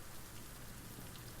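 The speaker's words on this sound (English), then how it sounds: "It's raining. It's pouring." Steady rain pouring down, a dense broadband hiss with soft patter on surfaces, even and continuous throughout, with no voices.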